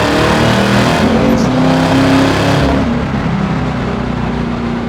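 Supercharged LT4 V8 in a 1968 Camaro restomod cruising in third gear at about 60 mph on a public road, a steady loud engine drone with road and wind roar throughout, easing slightly toward the end.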